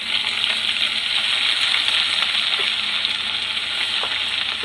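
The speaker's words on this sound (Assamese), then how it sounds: "এতিয়া দিছোঁ আদা" Ginger hits a hot pan and sizzles with a loud, continuous crackling fry, a bright frying hiss with faint pops and stirring clinks, close by and without voices.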